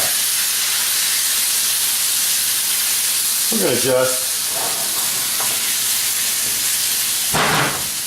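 Chicken pieces fry in a hot pan for keto kung pao chicken, a steady bright sizzle with a brief stir and a burst of louder hissing, while a voice speaks briefly.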